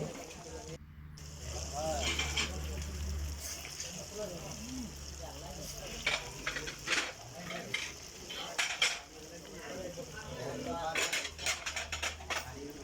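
Beef tikka kebab pieces fry in a pan with soft sizzling beneath clinks and scrapes of a metal utensil against the pan, while a person talks over the cooking.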